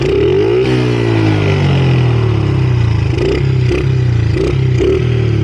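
A dirt bike engine runs close by, with a rough, uneven idle and low droning tones that dip and stutter, plus some rattling clatter.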